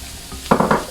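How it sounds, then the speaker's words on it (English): Chopped spring onions hitting a hot oiled pan, a brief loud sizzle with a few stirring scrapes in under a second, close and without talk. "Quickly add about 75 to 100 grams of chopped spring onions."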